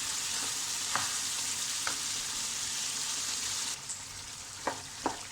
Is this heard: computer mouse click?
no